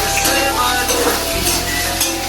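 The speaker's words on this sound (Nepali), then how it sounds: "फ्राई गरेर पहिला प्याज हाल्नु" Onions and green chillies sizzle and crackle steadily in a hot pan, loud and close, with occasional stirring scrapes and clinks of a utensil against the metal.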